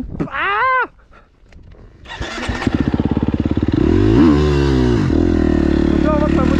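A KTM motorcycle engine revs hard and close up, rising to a loud, steady roar after a brief high whine; a voice speaks over it in the opening moments.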